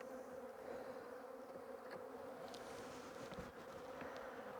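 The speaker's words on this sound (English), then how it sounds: "These are all worker bees as well, which is females." Worker honey bees hum steadily around an open hive during a beekeeping inspection, a continuous soft drone with a few individual bees buzzing closer and briefly louder.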